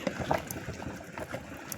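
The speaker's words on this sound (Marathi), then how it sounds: "एकदम त्याला उकळी आली अशी" A thin curry bubbles and simmers close by, a steady churning boil with small popping bursts.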